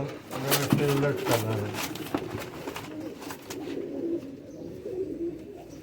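Pigeons coo on a rooftop loft, including a barred (patti) female and a fakir gul male, their soft low cooing phrases repeating close by while people talk over them.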